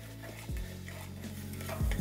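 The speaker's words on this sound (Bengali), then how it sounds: "তারপর এটাকে আবারও ভালো করে কষিয়ে নিচ্ছি যাতে রসুনের কাঁচা গন্ধটা একদম চলে যায়" Garlic paste being stirred and sautéed in a pan while cooking a malai katla fish curry, a steady soft sizzle with a couple of scraping spoon strokes against the pan, close and alone.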